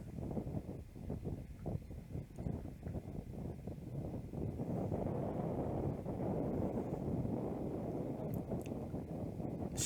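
Gusty wind buffets the microphone on an outdoor disc golf course, a low rumbling roar that swells and stays heavy, with faint distant knocks now and then.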